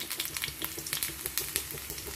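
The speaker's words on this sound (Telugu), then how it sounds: "నూనె కాగిందండి. ఫస్ట్ వెల్లుల్లి వేస్తున్నాను." Garlic dropped into about a tablespoon of hot oil for tomato rasam sizzles and crackles steadily with scattered sharp pops, close and alone.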